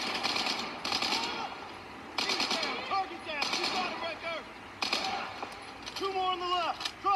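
Bursts of automatic gunfire in the video game Battlefield 4, rapid rattling volleys in several loud clusters, with voices speaking between and over the shots.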